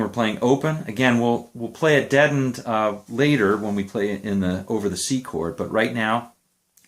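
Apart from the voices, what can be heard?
No everyday noises stand out.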